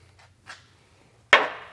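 Small hammer strikes a roll pin punch while a roll pin is driven out in a Mustang engine bay: two faint light taps, then one sharp, louder metallic hit that rings briefly.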